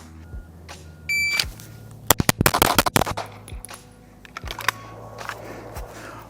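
Pistol shots crack in a fast-draw shooting drill, a tight rapid string of loud reports in the middle after a short electronic beep, with a few fainter pops following.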